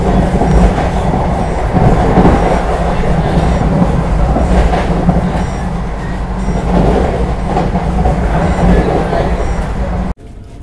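Express train 22309 on the Kolkata to Tarapith run, cruising at about 130 km/h: a loud, steady rumble and rattle of wheels and carriage throughout, cutting off abruptly near the end.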